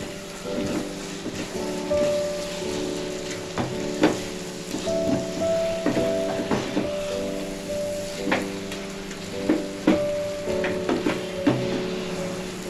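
Moong dal sheera roasts in ghee in a pan, giving a steady soft sizzle with irregular spatula scrapes and stirring clatters, close and fairly quiet.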